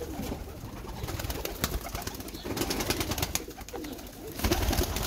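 Pigeons coo repeatedly in a loft in Wolverhampton, with soft rolling calls and occasional rustling and wing movement close by throughout.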